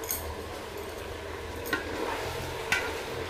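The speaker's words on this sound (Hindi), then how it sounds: "इस तरीके से हमें अभी मसालों को थोड़ा फ्राई करना है, हमारा मसाला थोड़ा भुन जाएगा" Biryani masala frying in a pan with mint and chopped coriander leaves for a hotel-style chicken biryani, a steady close sizzle broken by a couple of stirring scrapes and light clinks.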